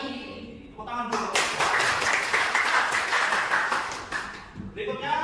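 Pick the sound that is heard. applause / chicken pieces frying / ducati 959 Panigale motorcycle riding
applause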